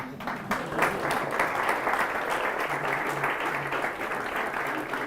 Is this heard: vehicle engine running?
no